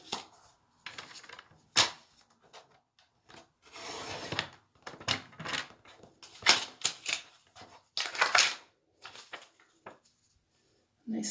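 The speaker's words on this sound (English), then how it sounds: "Nice cut through the vellum." A Stampin' Up! paper trimmer slicing through delicate vellum, heard as a series of close, dry scraping and clicking strokes in short bursts with quiet gaps between them.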